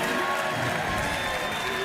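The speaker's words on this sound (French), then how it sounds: "Je voudrais qu'on applaudisse Emmanuel." A studio audience on the French game show Les 12 Coups de Midi claps in a brief, steady burst of dense applause with a faint voice beneath it.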